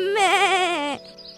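A single long, wavering sheep bleat, loud and close, ending abruptly into quiet background.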